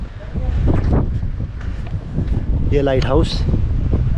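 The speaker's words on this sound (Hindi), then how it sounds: "और यहाँ बहुत अच्छी हवा चल रही है।" Strong sea wind at Diu Fort, a seaside fort with many cannons, buffets the microphone in rough, uneven gusts while someone speaks over it.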